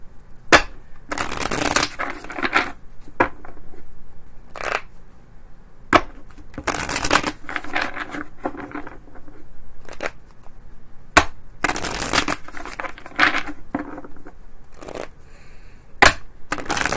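Tarot cards riffled and shuffled in repeated bursts, crisp papery flutters separated by short pauses, close and fairly loud.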